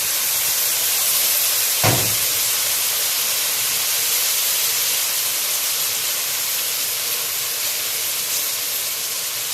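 Washed rice poured into a hot pot with a short thud, followed by a steady loud sizzling hiss that continues evenly throughout with no talking.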